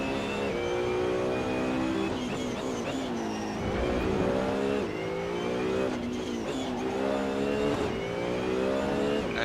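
BMW Z4 GT3 race car in the Assetto Corsa racing game, its engine loud and continuous, revving up through gears with repeated rising pitch sweeps and shifts, no talk.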